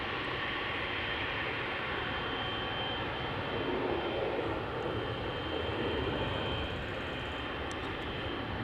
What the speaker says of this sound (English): Air Canada, flight 809. 777-300 ER, 14 years old, first flight June 2009.